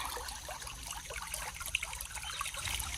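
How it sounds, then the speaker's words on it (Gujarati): Irrigation water running along a field channel into a wheat field, a soft continuous trickle and babble, faint and steady outdoors with no talk. "કેવું મસ્ત પાણી જાય ધોરીઓ"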